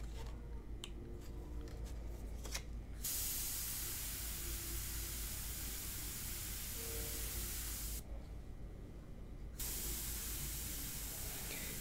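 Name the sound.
airbrush spraying India ink on paper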